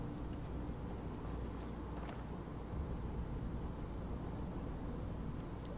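Rain falling in Fallout 4 during a storm, a steady dense hiss of rainfall with a faint low rumble beneath, continuous and even throughout with no talk.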